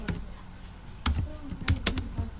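Keys tapped on a computer keyboard while entering a calendar appointment, a few scattered clicks and then a quicker burst of sharp taps, close by in a quiet room.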